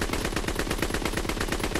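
A Lewis light machine gun in Call of Duty WW2 fires a fast, unbroken burst of loud, evenly spaced shots, with no voices over it.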